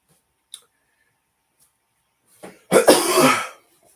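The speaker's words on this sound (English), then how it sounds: "didn't mean to cough" A single close, harsh cough rings out after near silence, preceded by a faint click.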